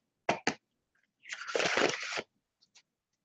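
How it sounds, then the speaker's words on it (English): Tarot cards being shuffled by hand: two quick, crisp riffs, then a longer rustling riffle of about a second, close and fairly quiet, followed by a couple of faint taps. "I'm going to shuffle them."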